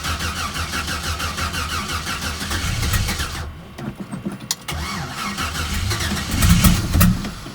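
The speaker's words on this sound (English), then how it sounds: "Let's see if it'll start." An LS-swapped 1975 Pontiac Firebird Formula engine cranks repeatedly in a steady whirring rhythm, pauses, then cranks again and catches, rising into a loud rough idle outdoors in the cold.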